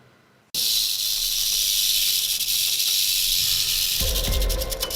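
A rattlesnake's rattle buzzes loudly and continuously up close, a dry, sustained hiss-like rattle that starts abruptly.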